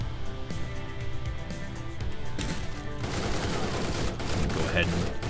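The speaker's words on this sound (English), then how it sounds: "Go ahead and just gun down these psychos really quick." Gunfire in the 2D tactical shooter Door Kickers: Action Squad: rapid bursts of automatic shots rattle over steady game music, growing denser and louder partway through, with someone talking over the action.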